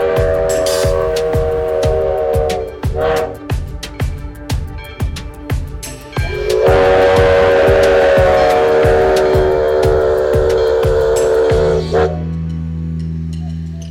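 Nevada's Engine 40, a steam locomotive known as the ghost train, blows its whistle loudly in long sustained blasts with short bursts between, over rhythmic chuffing and mechanical clatter, close by.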